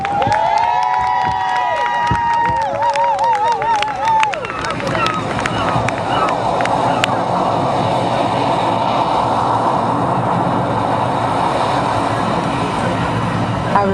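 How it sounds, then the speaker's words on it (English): A crowd at a Heritage Days event claps and cheers loudly and steadily for an honoree, the applause swelling into a dense, sustained roar over brief voice and whistle-like tones at the start. "give her the largest, warmest round of applause for our Queen, Queen Quet"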